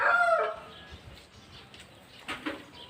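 A chicken gives a brief cluck, then a softer one a moment later, fairly quiet against low background noise.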